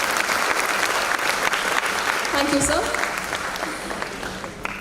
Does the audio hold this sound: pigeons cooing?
no